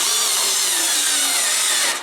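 A drill-type power tool runs continuously, tightening bolts while assembling a Vevor stainless steel BBQ table, a loud steady whine that holds for about two seconds before cutting off.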